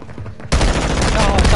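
After a brief quiet moment, loud rapid gunfire erupts and keeps going in a dense, crackling burst of Call of Duty shots.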